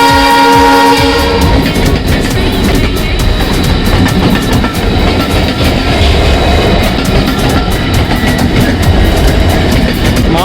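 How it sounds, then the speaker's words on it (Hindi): A freight train passes very close along a railway track near the Dudhsagar waterfall trek in Goa, with a horn blast at the start and then a loud, continuous rumble and rhythmic clatter of wagons over the rails. "हम लोग रेलवे ट्रैक से चल रहे हैं और यहाँ पे एक ट्रेन पास हो रही है।"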